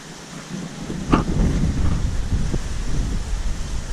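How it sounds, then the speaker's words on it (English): Steady outdoor wind buffeting GoPro cameras fitted with windscreens, a low rumbling roar that swells after the first second and stays constant, with a brief gust thump, no voices. "it's not real windy today, but it's definitely windy out here"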